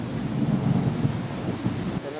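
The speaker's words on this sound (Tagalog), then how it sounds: "Oh, kumukulog-kulog pa." Thunder rolls in a low, continuous rumble through a heavy rainstorm in the Mandaluyong area, swelling and easing over a couple of seconds, with steady rain hiss mixed in and no one talking.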